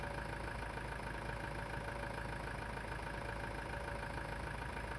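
A tractor engine idles steadily in Farming Simulator 19, a continuous even hum with a constant tone and no change in speed, heard alone without any voices.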